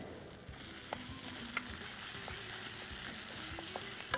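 Soft sizzling and scraping in a frying pan as cooked rice is stirred for gooseberry rice, with light intermittent clicks of a utensil, close and quiet, no voices.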